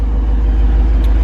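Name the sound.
Jeep Wrangler Rubicon 392 V8 HEMI engine rumbling, dual exhaust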